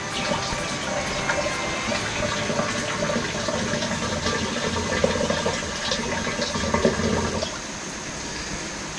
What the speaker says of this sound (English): we just want to add a little bit more water to bring it up to this blue line here